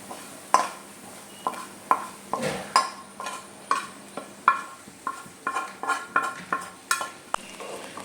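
Spice mix for a cowpea stir-fry without coconut being stirred into the cowpeas in a pan, with a spoon scraping and tapping the pan in a regular rhythm over a faint sizzle, close and without talk.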